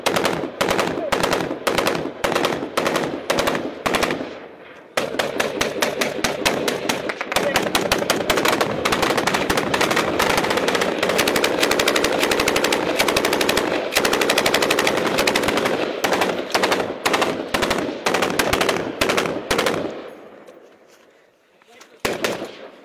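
Loud, close automatic gunfire in combat in Afghanistan comes in rapid bursts and long sustained strings, with short pauses and a lull near the end, while voices are heard between the shots.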